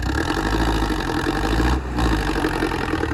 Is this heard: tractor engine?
yes